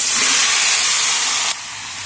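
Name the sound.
vegetables added to hot spice paste, sizzling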